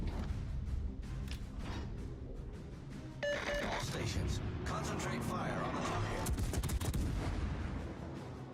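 Warship guns fire at a target in World of Warships, with heavy booming salvos and rumbling naval battle noise running throughout, dense and loud, while a voice speaks over the action.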